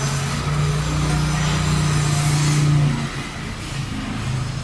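A car engine hums loudly with a steady droning tone that rises, holds for a few seconds, then drops off as the revving eases.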